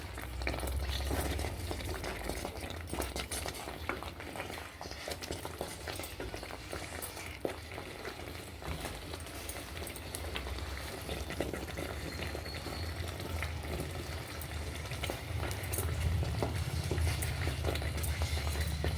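Multi-millet and moringa-leaf khichdi made from coarse rava cooks in a pot over a medium flame, giving a steady low bubbling and simmering with scattered soft stirring scrapes throughout.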